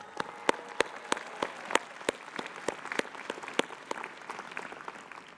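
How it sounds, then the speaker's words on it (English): Audience applause at a commencement ceremony, a steady crowd of many hands clapping with sharp individual claps standing out, sustained throughout at moderate distance. "co-chair of MFA Design with Lita Tellerico, who's here today and deserves applause."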